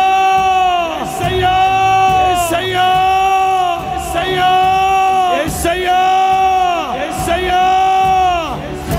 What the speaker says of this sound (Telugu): కేకలు